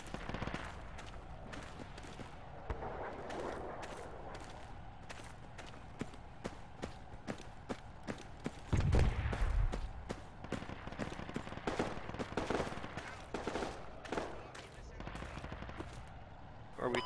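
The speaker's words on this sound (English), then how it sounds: "Shots from west of the fob?" Rapid gunfire rings out in the military shooter Project Reality, a long run of sharp cracks and bursts at mid distance, steady throughout with a heavier cluster in the middle, and people talking in places.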